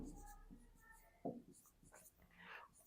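Pen scratching on paper while working out a math solution, soft strokes heard close in short bursts over a low background hum, alongside a few faint vocal sounds.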